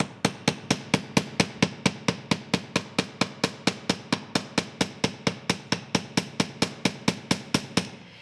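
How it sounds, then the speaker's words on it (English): A small domed-face chasing hammer flattens wire on a steel block in a fast, perfectly steady rhythm, dozens of sharp, ringing taps in a row, close and clear. "I'm going to use a chasing hammer that has a slightly domed face for this part of what I'm doing"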